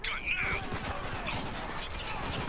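Turret gunfire in the Spec Ops: The Line campaign, a steady stream of rapid shots and impacts at moderate distance, running continuously beneath other game noise with no words spoken.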